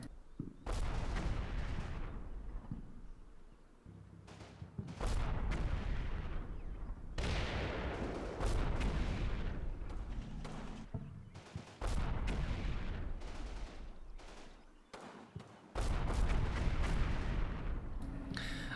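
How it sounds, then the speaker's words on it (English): Tank guns firing high-explosive rounds in the Combat Mission Red Thunder war game, heavy booming shots spaced several seconds apart, each followed by a long rumbling decay, loud and without talk. "our tanks are going to lay in on the enemy's infantrymen hiding inside the woods here with HE ammunition"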